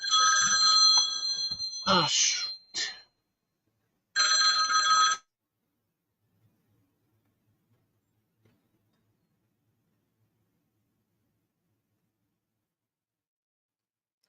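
A cell phone rings loudly in two bright, tonal bursts, with a person briefly exclaiming between them; then the room goes almost silent.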